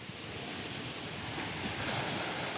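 Continuous roar of rough sea surf and heavy waves mixed with strong gusting northeast monsoon wind buffeting the microphone, steady and loud with no voices.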